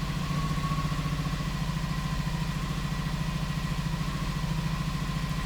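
A Honda Magna VF700 motorcycle engine idles steadily on its first run after a fuel system flush, a close, even low throb with a light mechanical clatter running throughout.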